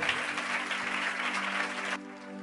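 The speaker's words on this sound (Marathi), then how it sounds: "जरा जोरदार टाळ्या प्रभूच्या गौरवासाठी मी वाजूया." A church congregation claps loudly together during a prayer meeting, a dense burst of applause over a sustained musical tone that stops abruptly after about two seconds.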